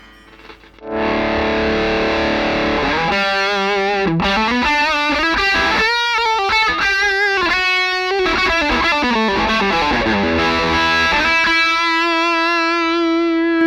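A smooth, overdriven electric guitar through an Alnico Cream speaker cabinet simulation plays a lead line with bends and sustained notes, loud and close, with no one talking.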